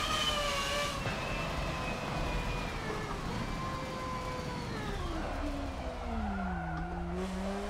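High-revving race car engine in a racing video game played on a Logitech G920 wheel, the pitch sweeping up and down through gear changes with tire skid, steady and close, no talking.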